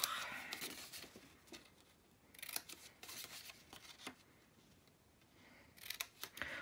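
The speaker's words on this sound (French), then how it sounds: "Maintenant, on va découper un petit coin ici pour plier." Scissors snip through the corner of a small cardboard cookie box in a quiet room, several close, crisp cutting strokes spread over a few seconds with soft handling rustle between them.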